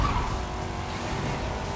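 A wide-body Chevrolet Corvette C8 driving in Forza Horizon 5, its engine note and tire noise forming a steady, loud, continuous roar with no talk over it.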